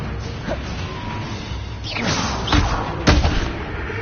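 An Incendio fire spell cast in Hogwarts Legacy erupts in loud whooshing bursts and heavy impact-like thumps, several flaring blasts a second or so apart over a dense, rumbling battle backdrop.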